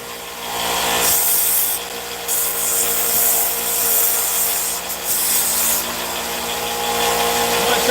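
A belt sander with a 120 grit belt grinds steel for a railway switch frog in a shop, a steady, loud abrasive rasp that runs continuously with brief surges in pressure.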